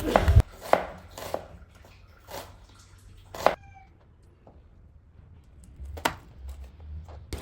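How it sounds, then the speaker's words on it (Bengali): Onion and chili being chopped with a knife on a board, a few sharp separate knocks spaced irregularly with quiet gaps between them. "এরপর কেটে নেব রান্নার জন্য পেঁয়াজ ও মরিচ।"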